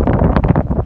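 Strong wind gusts buffet the microphone near an 800-metre bridge over the Araguaia River at Itacaiú, Goiás, a loud, continuous roar with surging peaks that fills the whole clip.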